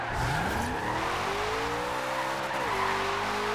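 In Forza Horizon 2, a supercharged V8 car skids through a slide, its engine climbing in pitch then dropping sharply on a shift, under steady loud tire screech, close and continuous.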